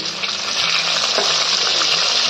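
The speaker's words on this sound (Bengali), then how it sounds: "এই কড়াইতে আবার ভাজছি।" Fish sizzling and spattering steadily in hot oil in a kadai, a loud, continuous crackling hiss with no talking.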